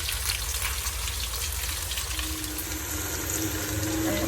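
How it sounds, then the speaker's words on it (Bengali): Hilsa fish fries in hot oil, giving a dense, even hiss that stays strong and close throughout with no pauses. "এদিকে মাছগুলি ভাজা হয়ে যাচ্ছে।"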